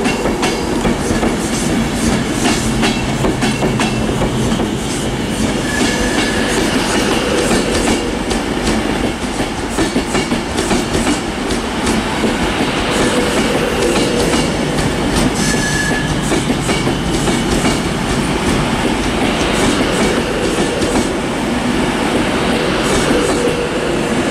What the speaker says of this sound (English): East Midlands Trains are turning up now